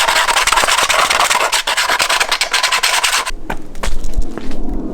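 The edges of a scooter part are sanded in loud, steady, rasping strokes for about three seconds, then the sanding stops and a few knocks and clunks follow.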